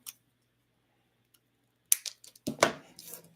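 Scissors snip through a plant leaf up close, a few sharp crisp cuts clustered near the end after a near-silent stretch.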